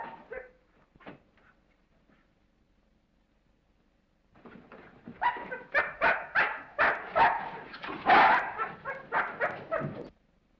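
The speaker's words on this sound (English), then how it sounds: "This dog's been struck a nasty blow." A dog named Captain, struck a nasty blow, gives a few faint whimpers and then a long run of close, urgent yelps and barks in quick succession.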